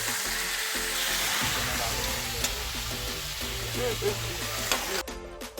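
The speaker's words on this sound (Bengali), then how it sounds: "এখন চিকেনটা কড়ার মধ্যে সমস্ত কিছু মশলা দিয়ে কষা হচ্ছে" Chicken with yogurt and spices frying in a kadai, a steady broadband sizzle with occasional stirring scrapes and a low background hum throughout.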